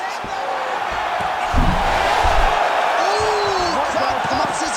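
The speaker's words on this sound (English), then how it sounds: "Ooh, crowd pumps as he gets out again." Arena crowd at a UFC lightweight title fight between Topuria and Oliveira roaring steadily as a fighter escapes a submission attempt, a sustained wash of cheering with whoops, under a commentator's voice.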